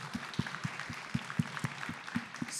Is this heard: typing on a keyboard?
no